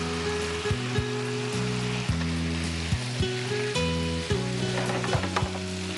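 Coriander powder goes into spices frying in a pan on a television cooking show, a steady hissing sizzle broken by short regular scraping and stirring strokes, close and fairly loud.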